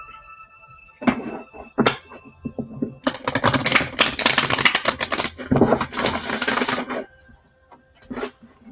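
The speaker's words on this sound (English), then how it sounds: "these cards are a little more stiff because they're a newer deck, so they're a little louder than my other ones" Stiff new deck of playing cards being shuffled: a few sharp riffles and taps, then a long loud riffle burst lasting several seconds, closing with a couple of squaring knocks, close up with no talk.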